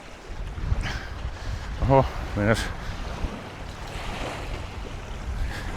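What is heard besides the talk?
wind on Lake Inari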